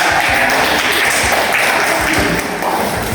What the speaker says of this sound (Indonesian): Tepuk tangan untuk Nivia dan Karina.